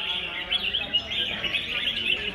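Several competing songbirds at a bird-singing contest chirp and trill continuously in bright, overlapping bursts, fairly close and lively. No voices can be heard.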